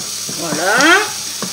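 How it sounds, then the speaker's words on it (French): Garlic and onions cook in a pan for mussels with Roquefort, giving a close sizzling hiss with a few light scrapes and a brief faint whistling sweep, and no speech. "On fait bien blanchir notre ail et nos oignons."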